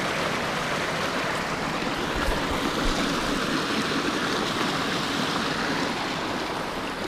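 A mountain stream rushes through Butskyi canyon, a steady, close, full-bodied wash of flowing water that holds even for the whole stretch, with no voices over it.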